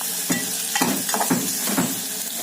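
Onion fries in a pan for kulith pithi, a close steady sizzle with several rhythmic scraping stirs of a spoon against the pan, no voices.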